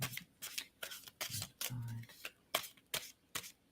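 Tarot deck shuffled by hand, giving sharp papery slaps and rustles in an uneven rhythm, close up, with a brief low murmur partway through.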